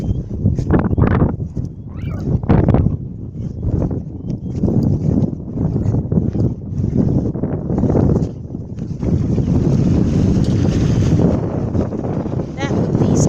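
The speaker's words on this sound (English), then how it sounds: "Now the wind is windier over here, so I'm sure you hear the wind." Strong wind blows by the sea, a steady broadband rush buffeting the microphone throughout, with someone talking over it for much of the time.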